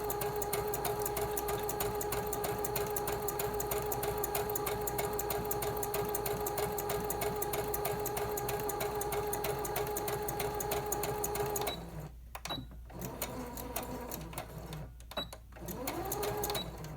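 A sewing machine stitches fabric for a lavender sachet in a fast, continuous mechanical whir close by. It stops briefly near the end for back stitches, with short pauses and clicks between the runs.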